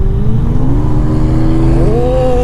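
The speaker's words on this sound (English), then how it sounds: "So fucking beautiful sounding V12." V12 car engine revving up close on a street in Mumbai, a loud deep roar with pitch climbing steadily as it accelerates.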